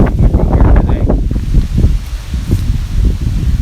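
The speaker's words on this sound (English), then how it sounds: "It's really windy here" Strong outdoor wind buffets the microphone in a loud, continuous low roar with gusty surges throughout, and no one speaks.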